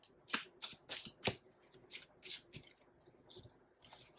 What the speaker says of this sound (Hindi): एक और कार्ड निकालते हैं, लास्ट कार्ड आपके लिए।